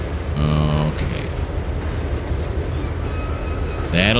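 Train reversing slowly in Trainz 2022, a steady low rumble of rolling stock and engine with faint rail clatter, a short horn-like tone at the start and another near the end, and a voice talking over it.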